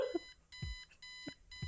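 Electronic alarm clock in the point-and-click game Kathy Rain, set on September 25th, 1995, beeping in three clear repeated bursts with short gaps between them, loud and alone apart from a brief thud.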